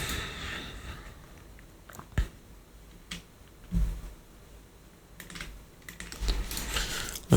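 Fingers tap a computer keyboard in scattered bursts while a perfume bottle is modeled in Blender, the keystrokes soft and close with a few sharper clicks and pauses between them.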